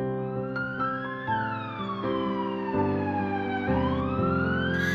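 A fire engine siren wails close by, a loud electronic tone sweeping up and down over a steady rumbling engine, continuous throughout.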